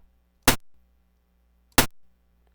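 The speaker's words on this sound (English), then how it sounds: "What I have here is pink noise being sent through a number of envelope shapers." Pink noise shaped by an envelope shaper into an average contour: two loud, sharp bursts about 1.3 seconds apart, each snapping in and fading quickly, over a faint low hum.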